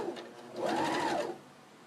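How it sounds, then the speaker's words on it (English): A sewing machine stitches straight across a tutu purse in one short, steady whirring run that rises, holds for about half a second and fades, quiet and close. "we're going to stitch straight across"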